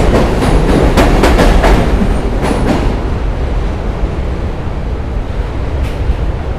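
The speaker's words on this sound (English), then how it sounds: "let me wait for the train to pass." A train passes on a New York street, its loud rumble and clickety-clack of wheels over rail joints strongest at first, then easing into a steady roar as it moves on.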